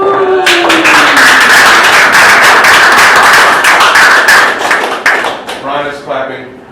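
Clapping from an attendee at a talk on getting started as a YouTube creator comes as a loud, close burst of hand claps that is sustained for several seconds, then fades into a few scattered claps.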